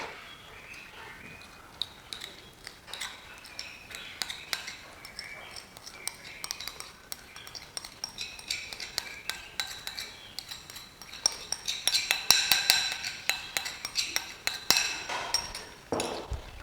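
Soup is stirred in a pot with a metal utensil, producing steady scraping and light clinking that grows busier and louder toward the end, close by and with soft speech at times.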